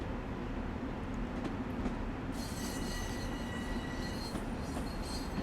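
Long Island Rail Road express train from Train Sim World 2020 running steadily, a continuous loud rumble of wheels on rail with a metallic squeal rising partway through and persisting to the end.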